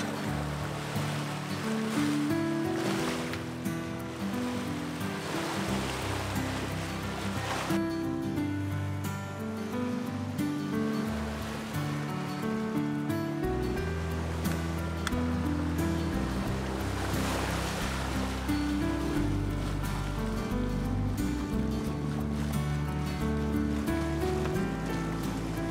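Ocean waves surge around a cruising sailboat near Green Turtle Cay in the Bahamas, a constant loud wash of surf and water rush with low rumbling swells, no voices.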